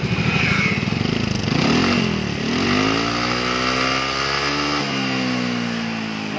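A Yamaha NMAX motorcycle fitted with a racing exhaust revs up hard and then falls back to a steady idle, the engine note climbing and dropping in close, loud continuous bursts.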